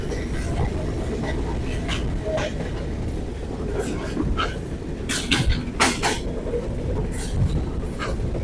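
The Chitra Express runs through Daulatpur railway station without stopping, giving a steady close rumble with scattered clicks and clanks of the cars over the rails throughout.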